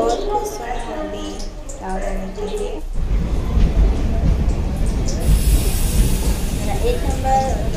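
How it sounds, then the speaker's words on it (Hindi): A train pulls into Alanka station, a broad rumbling wash with hissing that swells and holds steady after a quieter opening where a voice talks over the platform noise. "अभी उस साइड से अभी वो ट्रेन आ रही है"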